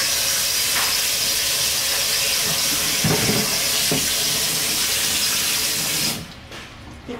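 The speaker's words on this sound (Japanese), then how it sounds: "熱いお湯を流します。" Hot tap water pours into a kitchen sink over chestnuts being prepared, a loud, steady hissing rush for about six seconds before the flow stops.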